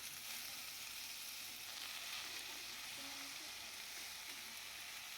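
Chopped fenugreek leaves sauté in a pan with red chili powder, giving a steady, close hiss of frying that runs evenly throughout with no one talking.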